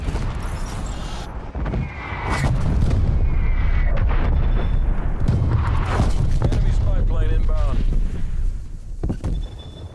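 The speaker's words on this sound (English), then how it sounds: "Hostile artillery targeting active." Artillery strikes in the Call of Duty: Black Ops Cold War beta land as loud, sustained booming blasts that rumble almost continuously, with game voices heard over the barrage.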